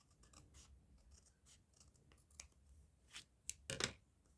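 Scissors trim the edge of a paper collage card, giving a few quiet snips and rustles that end in one louder, crisp cut.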